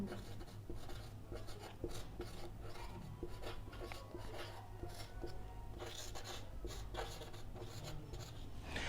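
Chalk or marker scratches continuously across a classroom board as a physics lesson is written out, with steady rubbing strokes close by and no voices.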